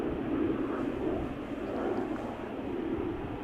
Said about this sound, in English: a KLM Embraer 190 took to the sky from center just now